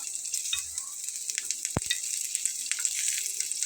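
Whole cumin and chopped garlic fry in hot oil with a steady, close crackling sizzle, and one dull knock on the pan midway through the short burst.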